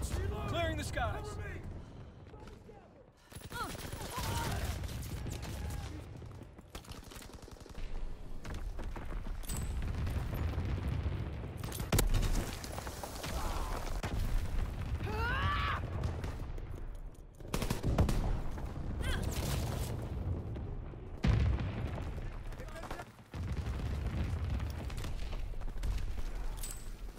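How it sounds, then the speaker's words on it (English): Anti-aircraft fire in the Call of Duty WWII Resistance game mode rattles in sustained bursts of rapid gunfire with occasional booms, mixed with battle noise and brief breaks. "Anti-aircraft bursts commenced"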